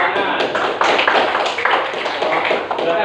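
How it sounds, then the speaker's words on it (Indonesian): A classroom of students clapping together in dense, sustained applause that fills the whole stretch, loud and close, with voices mixed into the noise. "Ya, beri tepuk tangan."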